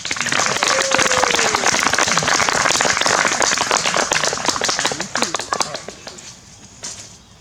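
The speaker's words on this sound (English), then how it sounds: "So a round of applause for Fred." Audience applause at a fall festival ceremony and Hall of Trees dedication, dense steady clapping that fills the space, loud and close, tapering off toward the end with no talk over it.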